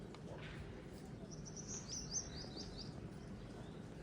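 Sparrows give a brief run of thin, high chirps at a village courtyard, faint against a steady low background.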